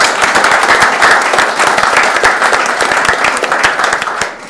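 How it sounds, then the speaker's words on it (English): A crowd claps steadily and fairly loudly for several seconds, a dense patter of applause that tapers slightly at the end. "quick round of applause for them"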